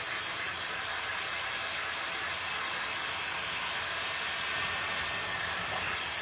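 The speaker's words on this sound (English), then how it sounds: "take your blow dryer, your heat gun, and just kind of like" A blow dryer or heat gun blowing air over sand on a Larry the Lobster craft tray, producing a continuous, even, airy hiss with no breaks and no voices.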